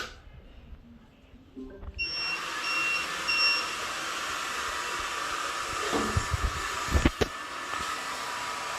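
A robot vacuum cleaner starts up after a quiet moment, its steady whirring motor hum running continuously with brief beeps early on and a few knocks and bumps near the end.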